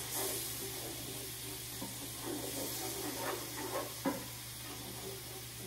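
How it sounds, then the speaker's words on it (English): Lemon mustard pan sauce bubbling in a pan as browned bits are scraped from the bottom, a low, steady sizzle and hiss with faint spoon scrapes and one sharper tap near the end. "as this bubbles up, we're going to scrape up all the brown bits on the bottom of the pan"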